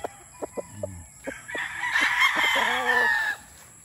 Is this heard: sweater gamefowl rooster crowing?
yes